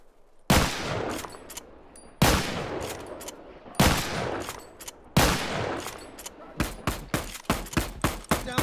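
Rifle gunfire in The Last of Us, loud shots cracking out close by: a few spaced single bursts with ringing tails, then a rapid run of shots near the end, with no talking.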